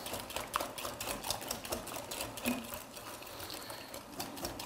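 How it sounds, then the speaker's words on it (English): A whisk stirs vegan mayonnaise into chipotle chile puree in a bowl, giving a quick, steady run of rapid clicking and scraping taps, close and moderately quiet, with no voices. "take a whisk and whisk it in there"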